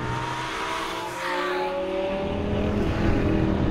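A Lamborghini Gallardo Superleggera LP570-4 accelerates hard, its engine note climbing in pitch, dropping briefly with a quick gear change, then climbing loud again, heard close with no voices.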